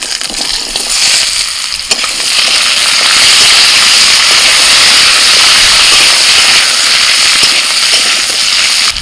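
Potatoes drop into hot oil seasoned with bay leaf, dried chilli and five-spice tempering, setting off a loud, dense, crackling sizzle that swells and holds steady close by.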